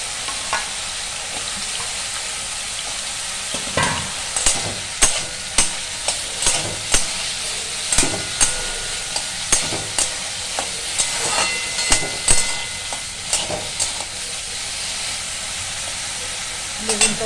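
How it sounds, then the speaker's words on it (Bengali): Eggplant slices frying in hot oil crackle and sizzle steadily, with sharp pops and a few stirring scrapes scattered through the frying; no one speaks. "বেগুনটা ভাজা যায়।"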